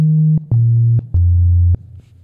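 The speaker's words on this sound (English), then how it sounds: "if I play a note now, you can hear we'll just get a pure tone" Three steady pure sine-wave synthesizer tones play one after another, each dropping lower in pitch, with short gaps between them; clean, loud, and alone.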